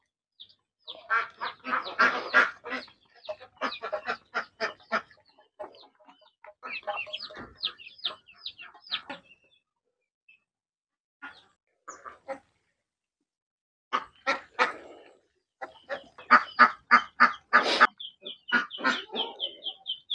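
Muscovy ducks in a farm pen call close by in quick bursts of harsh, clucking cries, broken by short quiet gaps, with no talk.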